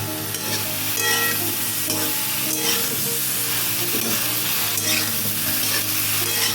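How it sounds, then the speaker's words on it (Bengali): Eggplant frying in oil with salt and turmeric, a dense steady sizzle and stirring noise filling the whole stretch, close and fairly loud, without pauses. "একটু লবণ দিয়ে দিলাম আর একটু হলুদ দিয়ে দেবো দিয়ে আমি বেগুনটাকে ভালো করে ভেজে নেব"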